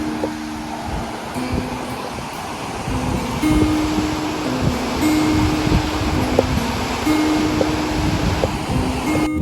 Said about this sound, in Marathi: या लाटा बघा तुम्ही कशा प्रकारे येत आहेत वरती